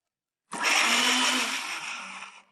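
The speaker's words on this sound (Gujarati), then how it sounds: "કેરીના કટકાને મિક્સર જારમાં લઈ લઈએ, ક્રશ કરી લઈએ" A mixer grinder crushing mango pieces starts abruptly and gives a loud, close whirring roar for about two seconds before winding down, with no talking.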